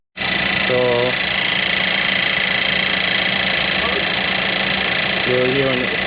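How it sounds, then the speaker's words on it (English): A Volkswagen Jetta's engine runs steadily with its newly replaced AC compressor engaging while refrigerant is added; a constant broadband hum and fan-like whir fill the clip, and brief speech passes over it twice. "you'll hear when the compressor come in."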